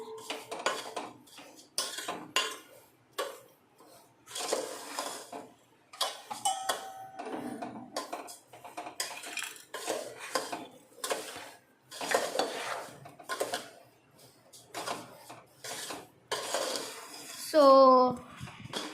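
A spoon scrapes and clatters against a pan as sugar is stirred into a ravva laddu mixture, repeated close metallic knocks in an irregular rhythm, with people talking intermittently over it.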